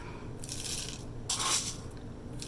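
Crunchy whole grain cereal poured onto a yogurt parfait: a few close, dry rattling bursts of crisp pieces landing and crackling, separated by short pauses.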